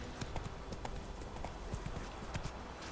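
Horse hooves clip-clop in The Witcher 3 video game, a quick, faint, uneven patter of hoofbeats on ground throughout, with no voice over it.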